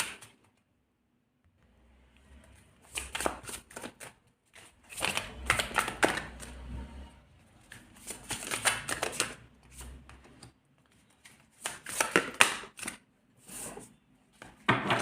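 A deck of tarot cards is shuffled in several short, crisp riffling bursts separated by brief pauses, close and fairly quiet, with no talk.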